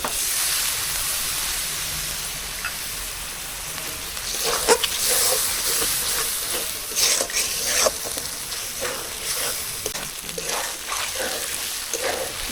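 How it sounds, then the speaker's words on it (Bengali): Water splashed into hot frying spice paste sets off a dense steaming hiss, with stirring clinks and scrapes breaking through the sizzle from midway on, close and loud, no voices. "যে বাটিতে মশলা রাখছিলাম ওই বাটিটা ধুয়েই পানি দিচ্ছি"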